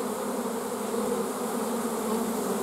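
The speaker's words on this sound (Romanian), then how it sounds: "Da, multă albină." A honey bee swarm leaving its hive in the rain produces a continuous, dense buzzing hum, steady and fairly close, with no voices over it.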